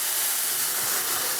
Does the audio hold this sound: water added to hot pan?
yes